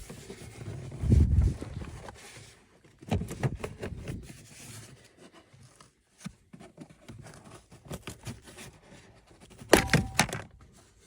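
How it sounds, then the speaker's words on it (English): Driver's side kick plate trim piece being pulled off a third-generation Toyota truck, a series of plastic thunks, snaps and rattling knocks in uneven bursts, close by and with no talk. "next got to pull the driver's side kick plate piece off"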